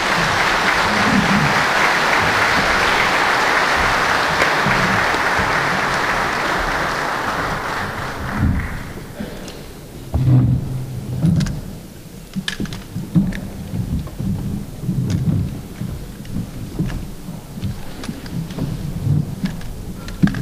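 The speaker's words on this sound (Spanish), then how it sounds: "a quienes les damos un fuerte aplauso" Audience at a government event on a market risk management programme giving the secretaries of state a strong round of applause, dense and loud for about eight seconds, then thinning into scattered claps and room noise.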